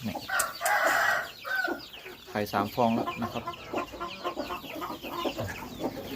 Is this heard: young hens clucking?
yes